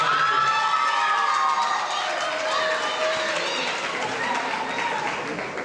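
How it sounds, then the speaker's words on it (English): An eighth-grade graduation crowd applauds and cheers, steady clapping blended with whoops and children's excited shouting filling the hall, loud and continuous throughout. "I think you owe your parents a nice round of applause for all they did"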